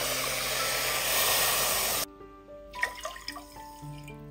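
Water splashes steadily into a container for about two seconds, loud and close, then stops, leaving faint clinks and a quiet room.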